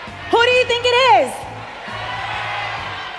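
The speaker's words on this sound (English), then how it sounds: "We're getting a lot of cheers from the crowd." A single loud, wavering voice shouts out at an MSC 2023 knockout-stage esports event, then a broad wash of crowd cheering swells and holds at moderate loudness over a low rhythmic hum.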